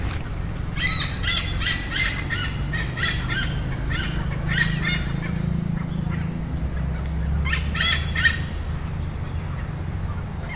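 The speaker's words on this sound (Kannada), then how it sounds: "ನೂರಾರು ಸಂಖ್ಯೆಯ ಹಾರ್ನ್ಬಿಲ್ ಬೀಡು ಬಿಟ್ಟಿದ್ದು" Hundreds of hornbills roosting at a lakeside near Yellapur, Karnataka, give repeated loud honking, squawking calls in bursts over steady low background rumble, with no speech.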